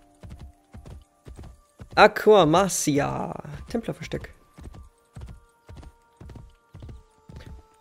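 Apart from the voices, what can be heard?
horse hooves clip-clopping in video game Assassin's Creed Brotherhood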